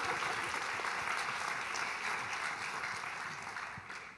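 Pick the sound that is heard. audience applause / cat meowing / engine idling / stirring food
audience applause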